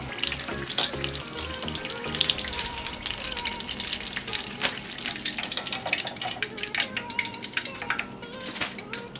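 Chicken empanadas fry in hot oil as a steady, dense sizzle and crackle, with stirring and scooping noises and occasional louder pops running throughout, no speech over it.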